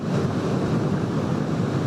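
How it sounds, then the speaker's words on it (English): Ocean surf surges onto the sandy beach of Bribie Island, Queensland, during wild wet weather: a loud, steady, broadband roar of breaking waves with wind buffeting the microphone and no voices. "a canal cuts Bribie Island in two, put there by surging seas, sending wave after wave at the sand"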